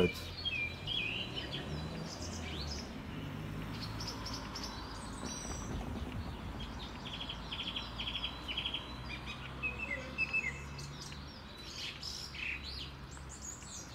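Birds chirp and sing in scattered short calls throughout, over a steady low rumble of traffic in an outdoor setting, with no talking.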